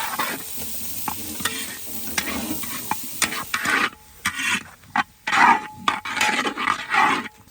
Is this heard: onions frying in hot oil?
yes